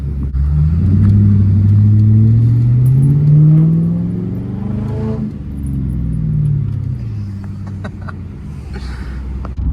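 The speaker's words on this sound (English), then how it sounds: "give it some gas while getting on the highway, so I think I'm gonna get on it" Lincoln hot rod engine revving hard while accelerating onto a highway, loud low rumble climbing through rising gear sweeps, easing off midway, then pulling again up close.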